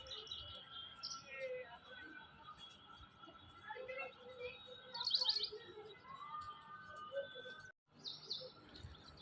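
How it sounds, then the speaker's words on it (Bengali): Various birds chirp and tweet from a rooftop in late afternoon after rain, faint and scattered at a distance over a soft outdoor hum. "আর বিভিন্ন ধরনের পাখির কিচিরমিচির ডাকও শোনা যাচ্ছিল ছাদে বসে।"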